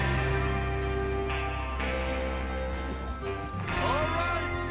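Horses galloping in the video game Red Dead Redemption 2, rapid hoofbeats under a music score and game sound, with a whinny and voices speaking over it.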